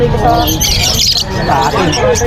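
Yellow-faced lovebirds for sale at a bustling tiangge market in Bocaue, with a dense mix of chirps, squawks and tweets, loud and close, heard under market chatter and people talking.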